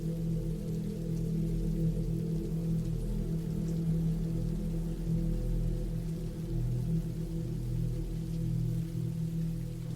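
Steady rain falls continuously at an even, moderate level with a low rumbling undertone, unbroken and without any voices.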